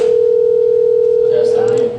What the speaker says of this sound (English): Not the dial tone, but that's the ringtone.